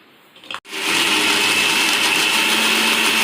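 A mixer grinder jar runs at full power grinding masala into a fine paste for paneer masala, a loud continuous whirring roar that starts abruptly after a short clatter and holds steady throughout.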